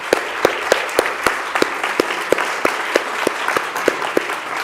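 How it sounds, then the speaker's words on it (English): An audience claps after a speech at a school debate competition, sharp individual claps ringing out in a loose, fairly regular rhythm over a noisy hall background, close and distinct rather than a dense roar. "Round of applause."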